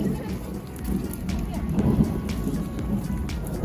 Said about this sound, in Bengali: বাইরে ভাই এরকম বৃষ্টির মধ্যে কি হবে উপায়?